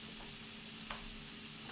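Food frying in a pan for fish with tom yam sauce and eggplant sambal, a quiet steady sizzle with a brief scrape of stirring partway through.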